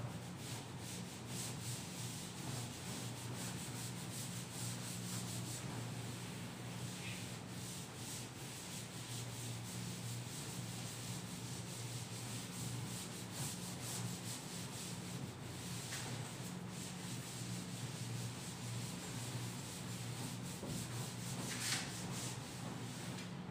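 Writing being rubbed off a classroom board during a maths lesson, a continuous soft scrubbing with rhythmic strokes lasting over twenty seconds, close and fairly quiet, with no voices.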